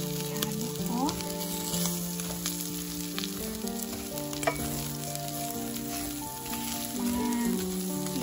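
Onion sizzling in a frying pan with rice while being stirred, a steady close crackle with occasional clinks of the utensil against the pan.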